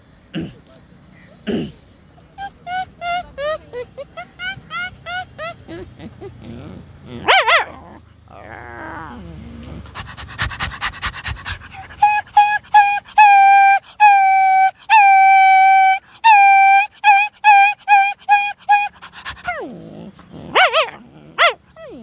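A man imitates a dog with his mouth, giving growls and then a run of sharp barks in a quick rhythm, loud and close, after a few short spoken words.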